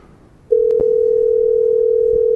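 A loud, steady telephone dial tone switches on abruptly and holds continuously after a brief stretch of quiet line noise, heard while placing a prank call.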